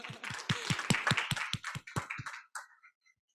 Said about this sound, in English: Yeah, maybe a round of applause